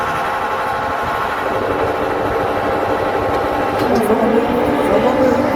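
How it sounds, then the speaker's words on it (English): Autograss mini race cars drone steadily at a dirt track, engine noise holding a constant level and swelling slightly near the end, while people talk loudly over it. "Engines revving up."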